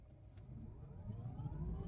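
Tesla Cybertruck pulling away in off-road mode, a low rumbling drive sound that builds steadily over under two seconds, fairly quiet with no engine note beyond road and drivetrain noise.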